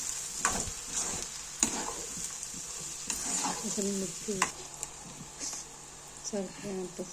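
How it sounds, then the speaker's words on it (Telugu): Egg curry with onion being stirred in a pan after chili powder is added, giving soft scraping stir strokes over a low sizzle, with voiced talk and brief clinks now and then. "కారం పొడి వేసుకొని కలుపుకోవాలి."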